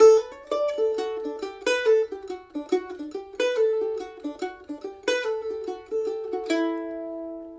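A bright plucked mandolin playing Fisher's Hornpipe, notes ringing clearly one after another, with quick pull-off ornaments giving some phrases a rolling, lilting feel before a final sustained note.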